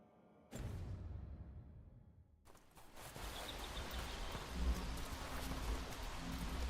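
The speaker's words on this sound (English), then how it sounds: "Something about the freaking rain that's just annoying." Steady rainfall hisses across a forest in Dragon Age: The Veilguard, a soft continuous wash of drops that starts abruptly and then swells, fairly faint and without talk.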